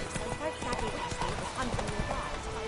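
Horse hooves clip-clop in The Witcher 3 in a quick, uneven trotting rhythm, close and moderately loud, with a voice talking over the hoofbeats.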